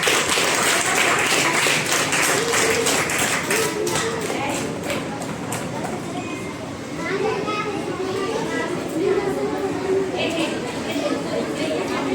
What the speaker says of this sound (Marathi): तुमच्यासाठी टाळ्या वाजवा